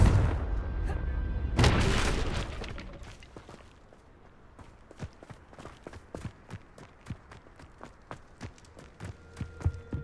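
A Confringo spell explosion in Hogwarts Legacy gives a heavy boom with a rumbling tail that fades away, followed by steady rhythmic footsteps as the character moves on.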